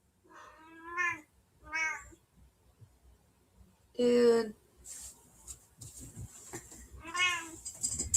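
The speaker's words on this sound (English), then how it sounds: "Crazy cat." A domestic cat meows loudly several times close by, with separate calls spread through the stretch and mixed in with casual talk from people nearby.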